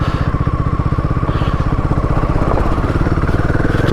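Motorcycle engine running steadily and loud on a broken, unpaved high-mountain road on the route from Gunji toward Adi Kailash, with a continuous pulsing throb and no talk.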